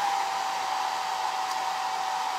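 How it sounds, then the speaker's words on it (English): A hair dryer blowing steadily to dry paint on a small galvanized metal heart, a loud, even, continuous whirring hum close by with no breaks. "I'm just going to dry this real well."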